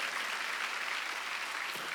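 A congregation at a Sunday church service claps together in a brief, dense burst of applause that stays steady and fairly loud throughout.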